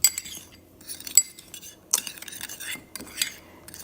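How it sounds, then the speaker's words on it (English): A utensil stirs and clinks against a bowl as seasoned okra fry ingredients are mixed, making short irregular scraping and tapping sounds with brief quiet gaps between them. "Just gonna go ahead and mix everything."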